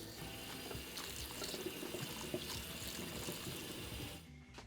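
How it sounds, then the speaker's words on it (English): Cold tap water runs steadily over noodles draining in a colander, a close, continuous splashing rush that cuts off abruptly near the end. "Drain the noodles in a colander and then run cold water over them to stop the cooking process."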